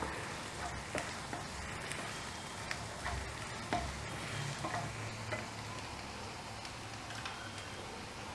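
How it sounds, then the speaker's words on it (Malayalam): Chopped onions sizzle and fry in a pan while being stirred for mushroom Manchurian, a steady close crackle with occasional scrapes of the spoon. "സവോള ചോപ്പ് ചെയ്ത് വെച്ചതും കൂടെ ഇടുന്നു. ഒരു 2 മിനിറ്റ് ഇളക്കിയാൽ മതി."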